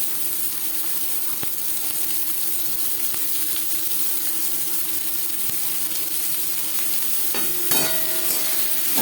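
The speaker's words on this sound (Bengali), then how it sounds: "ফোড়নের সাথে পেঁয়াজ বেশ ভালো করে মিক্স করে দেবো পেঁয়াজ লালচে করে ভেজে নেব" Chopped onions stirred and fried in hot tempering oil for Bengali-style masoor dal, a continuous loud sizzle with spatula scrapes throughout, up close and with no voices.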